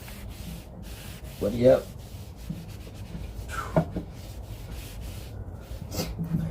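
Shop towels rub clear sealer onto a wooden floating shelf in soft, scratchy strokes, a few of them louder, heard close and quiet, with a brief bit of talking.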